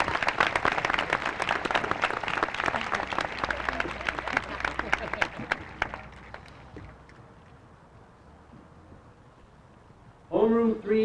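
A crowd applauds steadily for several seconds at a graduation ceremony, the clapping thinning out and fading, followed by a brief burst of voices at the end.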